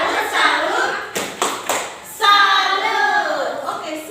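Classroom group clapping a rhythmic salute for presenting classmates, a few sharp claps and taps in short bursts, interleaved with children chanting along.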